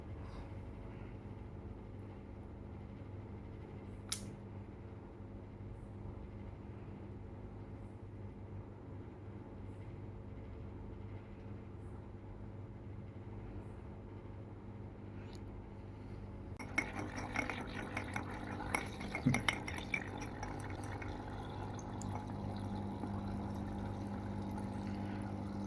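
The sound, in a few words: aquarium air pump bubbling through an airstone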